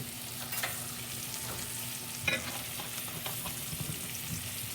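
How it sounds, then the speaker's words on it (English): A steak sizzles steadily in a hot pan while thyme garlic butter is spooned over it, with a continuous crackling frying hiss and a few sharper spoon clinks near the middle. "thyme garlic butter and we're gonna start to baste this"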